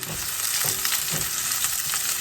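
Food sizzles and crackles steadily in a hot frying pan, a constant close hiss with small pops throughout.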